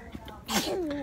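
A single sneeze from a nearby person, a short sharp burst followed by a brief voiced tail, in an otherwise quiet indoor space.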